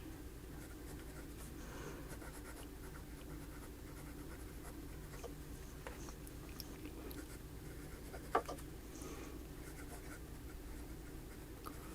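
A Leonardo Momento Zero Grande Pura fountain pen writes on paper, giving a faint, steady scratching over a quiet room hum, with one brief click partway through.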